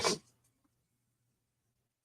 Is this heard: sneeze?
yes